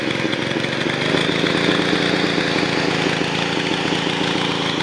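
A Generac 750-watt generator engine has just been started with its choke open and runs at a steady, buzzing, slightly uneven idle close by, with no pause.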